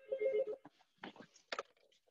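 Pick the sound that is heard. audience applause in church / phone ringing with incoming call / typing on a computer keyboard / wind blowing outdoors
phone ringing with incoming call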